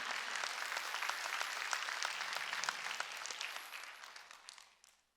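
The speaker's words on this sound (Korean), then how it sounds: "읽은 사람만 박수. 읽어만 박수 치라고." Congregation at a Wednesday service at Jesus Center Church clapping together, a dense burst of hand claps with sharp individual strikes that tapers off and dies away by the end.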